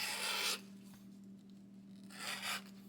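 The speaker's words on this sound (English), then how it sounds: "And you just start your leather in like this, and just cut the straps." A strap cutter slices through leather straps, giving two short, close rasping scrapes with a quiet gap between them.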